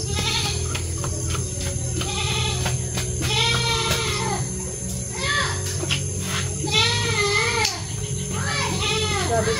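An angry goat bleats repeatedly outdoors, wavering cries that come in bursts over steady background noise, with children and people talking nearby.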